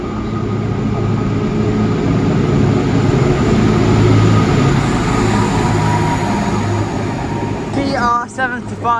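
A train passing through a Gloucestershire railway station, heard as a long, loud, steady rumble of wheels and rolling stock, with a brief squealing metallic screech near the end.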